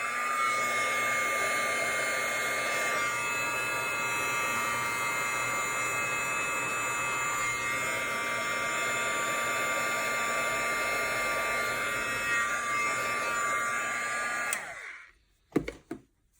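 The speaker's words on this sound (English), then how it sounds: "I'm going to bring out my heat tool and heat this" Steady, loud hot-air roar of a craft heat tool warming embossing powder on a birthday card, blowing continuously for about fifteen seconds before clicking off and fading.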